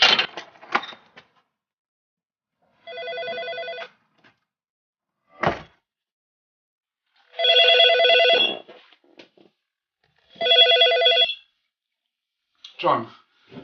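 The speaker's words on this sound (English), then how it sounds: "Professor Nick Humphrey gets a phone call from a colleague." An old-fashioned telephone rings for an incoming call, three loud buzzing bursts about a second long with pauses between, mixed with knocks and handling noises.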